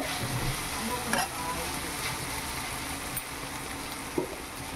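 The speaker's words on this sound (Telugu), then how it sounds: "5 మినిట్స్కి ఒకసారి ఇలా కలుపుకోవాలి, అడగంటకుండా ఉంటుంది" A potato fry cooks in a pan and is stirred now and then, with a constant dense sizzle plus a few faint scrapes and clicks of the spoon against the pan.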